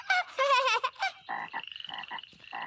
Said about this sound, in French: Et ça, c'est leur papa la grenouille.